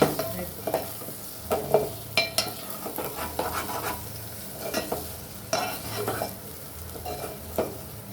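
Egg frying with onions in a pan, a soft steady sizzle broken by close, irregular spatula scrapes and stirring strokes against the pan.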